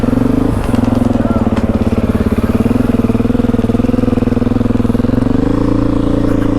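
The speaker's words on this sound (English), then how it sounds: "we are on the Beta 430RR. I was told this is the Ferrari of dirt bikes." A Beta 430RR dirt bike engine idles and throbs in a fast, even pulse, loud and close, with a slight rise in revs near the end.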